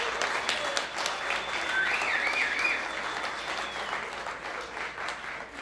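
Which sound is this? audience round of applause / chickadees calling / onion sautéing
audience round of applause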